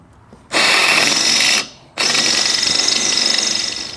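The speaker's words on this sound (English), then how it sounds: "we're going to drill out all of the rivets, front and rear" A power drill whines loudly in two bursts while drilling out rivets on a Beta 200RR motorcycle spark arrestor, the first about a second long, then a brief pause before a longer run that gradually winds down.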